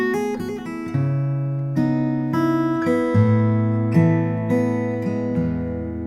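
Electric guitar recorded in mono through a Universal Audio 610 preamp plugin for a home setup, playing a melodic line of sustained single notes and chords, fairly loud and warm, alone without talking.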